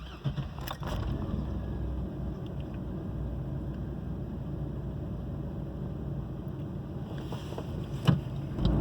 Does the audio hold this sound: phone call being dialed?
no